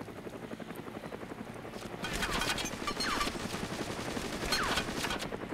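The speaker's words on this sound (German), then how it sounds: "der Helikopter kreist hier immer noch" Helicopter circling overhead with gunfire in the survival video game DayZ, a steady rotor drone rising louder midway with bursts of shots in the mix.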